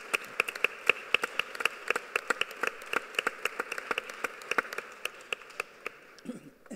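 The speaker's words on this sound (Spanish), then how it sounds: "Primero te aplaudimos." A small audience at a writers' day event applauds with a sparse, steady patter of individual claps that thins out toward the end.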